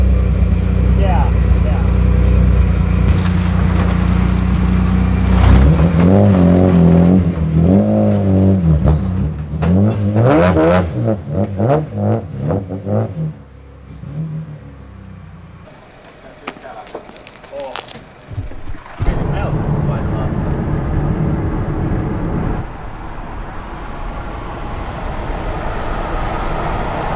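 A stage rally car accelerates hard and revs loudly nearby, its engine note climbing and falling through gear changes, then fading to lower road noise, with people talking over parts of it.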